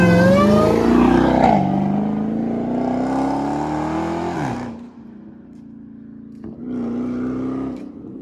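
A Hellcat Redeye fitted with a 3-inch catback exhaust roars past, the engine note rising through gears and then dropping. It comes back with a second burst of revving. It's loud and close, with no voices.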